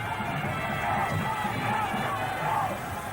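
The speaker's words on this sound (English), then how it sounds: "Jubilant crowds" Crowd at a 1996 Cricket World Cup match between Sri Lanka and Kenya cheers and whoops in a continuous wash of distant noise that swells a few times.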